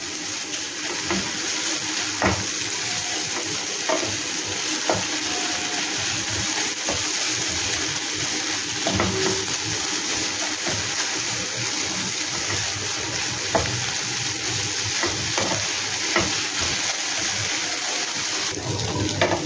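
Pointed gourd with green chillies frying in a pan with a steady moderate sizzle, punctuated by scraping and stirring clicks throughout.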